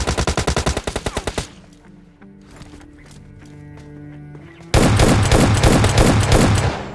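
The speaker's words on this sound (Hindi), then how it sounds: "फिलहाल यहाँ पे मरते मरते बचा, तो मुझे यहाँ पे S12 का यूज़ करना पड़ा।" S12 shotgun fire in the mobile battle-royale game PUBG Lite: rapid, loud bursts of repeated shots, a quieter stretch of game ambience and faint clicks, then another dense, loud volley of gunfire.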